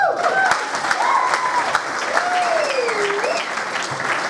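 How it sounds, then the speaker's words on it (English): An audience at a high school jazz concert applauds in sustained clapping, with bright whistles cutting through the crowd noise. "How about a round of applause for Madison Masiga?"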